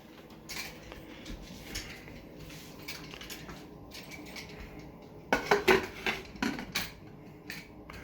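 A Futura pressure cooker, used for cooking dhansak, has its metal lid set on, giving a short cluster of close, sharp clanks and scrapes after quieter kitchen clatter.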